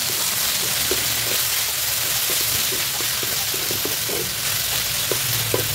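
Bitter gourd and egg frying in a home pan, a dense continuous sizzle with scattered small pops and crackles, close and steady throughout.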